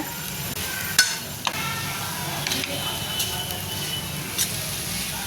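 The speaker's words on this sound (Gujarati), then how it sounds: "સરખી રીતે મિક્સ કરી લઈએ" Lapsi, a sweet cracked-wheat mixture, is stirred in a pan, with a spoon scraping and tapping now and then over a soft steady sizzle. A faint voice can be heard in the background.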